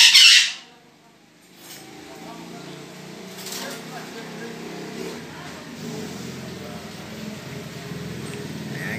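Parakeets let out one loud, harsh squawk at the very start, then fade into a quieter background while a person talks.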